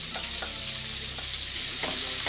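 Finely chopped medium onion sizzles in a pan, giving a bright, steady frying hiss close by, broken by a few soft stirring scrapes, with no talking.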